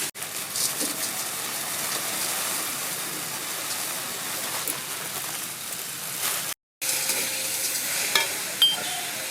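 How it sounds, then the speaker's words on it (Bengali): Grated carrots fry in a pan for carrot halwa, giving a steady, close hiss of sizzling with faint stirring scrapes throughout and a brief cut in the sound near the end. "এই যে দেখুন গাজর ভাজা হয়ে গেছে"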